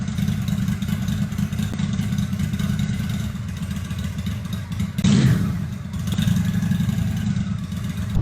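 A motorcycle engine idles steadily and close, a low, even rumble with a slight rise in the middle, sounding like a 2002 Honda Shadow without a loping beat.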